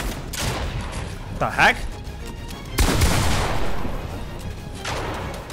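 Gunfire in Fortnite: several loud shotgun-like blasts, one sharp crack early and a heavier burst of shots midway, mixed with game effects while a person talks over them.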